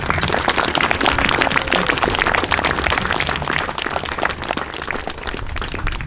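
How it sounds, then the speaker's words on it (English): A crowd at a fly-in applauds steadily, a dense wash of many hands clapping at once that holds for several seconds without talking. "let's give the Rosarios and the Kings a really big applause and gratitude"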